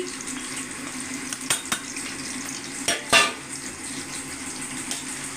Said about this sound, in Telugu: హై ఫ్లేమ్లో ఇవి బాగా ఉడికేంత వరకు కొంచెం కలర్ చేంజ్ వచ్చేంత వరకు బాగా తిప్పుకుంటూ మనం వీటిని బాగా మెత్తగా ఫ్రై చేసుకోవాలి